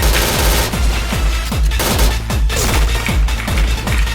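Rapid bursts of M4A1 automatic rifle fire in a first-person shooter game, loud and close, with rounds cracking in quick repeated volleys over the full stretch and no talk.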